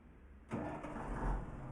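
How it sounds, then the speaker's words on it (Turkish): A DAF F241 truck engine cranks and catches in a modded truck-driving game, a sudden onset settling into a steady, fairly loud low rumble with no talk over it. "Böyle aracı çalıştıralım bir"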